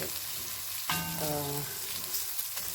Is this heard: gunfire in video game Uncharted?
no